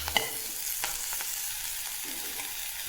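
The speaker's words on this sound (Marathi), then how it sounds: "आता फक्त लाल मिरची पावडर आणि अर्धा चमचा हळद आणि व्यवस्थित आपण हा मसाला परतून घेऊ" Masala with red chilli powder and turmeric sautés in a pan for a black pea curry, making a soft, even sizzle with a few light stirring scrapes, brief and fairly quiet, with no talking.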